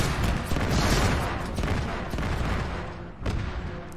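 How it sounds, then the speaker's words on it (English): Anti-aircraft guns fire in Arma 3 as a dense, continuous barrage of rapid shots and rumbling blasts. One sharp, louder burst stands out near the end. "there's a lot of AA shooting at us"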